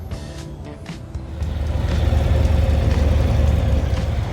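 A 2025 Harley-Davidson Fat Boy motorcycle engine runs close by with a steady low rumble that swells louder after the first second and holds there, with no talk over it.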